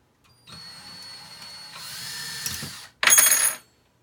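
A power drill backs a screw out of a wooden wall stud while a shelf is mounted, giving a steady close whir for about two and a half seconds, then a brief pause and a louder, higher-pitched burst.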